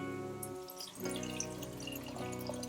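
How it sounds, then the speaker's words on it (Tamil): Tamarind water is poured into a pan of sautéed tomatoes and turmeric while making a South Indian fish curry, a soft, faint trickling splash that runs steadily for a couple of seconds. "இப்போ புளி கரைச்சி வச்ச தண்ணி அதில் ஊற்றிங்க."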